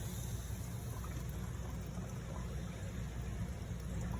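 Baking soda and vinegar reacting on a paper towel, a steady, soft hiss of fizzing bubbles that continues evenly without any breaks, faint and close, with no voices.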